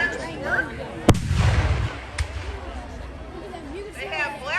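A flintlock black powder gun fires once at an outdoor 1812 reenactment, a sharp loud crack followed by a rumbling boom, then a second fainter report, with nearby people chattering throughout.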